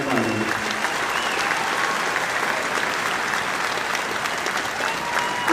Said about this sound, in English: I'd like to give recognition and a round of applause for Charles Browning